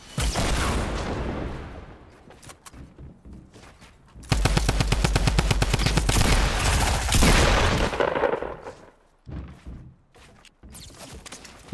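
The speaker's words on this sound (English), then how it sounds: "Why are you shooting at me?" Fortnite Battle Royale gunfire: loud bursts of rapid automatic fire with dense repeated shots, especially a sustained rattling volley in the middle, mixed with scattered single booms and quieter game sounds between.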